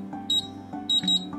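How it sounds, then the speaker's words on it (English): A Pulse time delay keypad gives two short, clear electronic double beeps, each a bright high tone close to the device, spaced about half a second apart. "The double beep sounds and the LED goes out."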